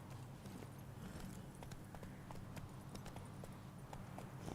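Roach, the horse in The Witcher 3, clip-clops along at a walk with a quiet, steady rhythm of hoofbeats over a low ambient rumble.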